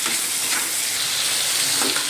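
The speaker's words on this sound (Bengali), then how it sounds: "এবার পেঁয়াজটা ভালো করে ভাজবো।" Onion frying in a pan until reddish, an even, continuous sizzle with faint stirring scrapes, close and steady with nobody speaking.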